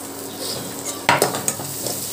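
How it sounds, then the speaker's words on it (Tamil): Carrots and prawns frying in spicy masala for prawn upma, stirred with a utensil: a steady close sizzle with a few sharp scraping clinks against the pan, no talking. "நல்லா மசாலாவில் ஃப்ரை ஆகிற மாதிரி நல்லா கிளறி விட்டலாம்."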